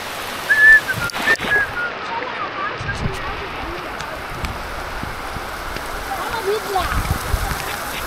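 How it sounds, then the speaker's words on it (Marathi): Heavy monsoon rain pours steadily over rice paddy fields in Konkan during planting, a dense hiss with occasional thuds and voices in the background. "पाऊस आलाय मित्रांनो, जोरात आला बघा."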